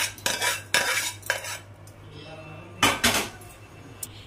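Tempering for tamarind rice (pulihora) being stirred in a pan, with a utensil scraping and clinking against the metal in several bursts, close by and fairly loud, and a steady low hum underneath.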